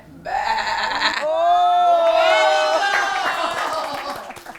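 A child imitates a goat bleating for an Eid ul Adha kids' programme, one loud wavering vocal bleat held for a few seconds, close and clear with faint background noise.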